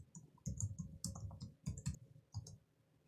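Several quick bursts of clicking keystrokes on a computer keyboard while a password is typed at a desk, the taps coming in short uneven clusters close to the microphone, with no talking.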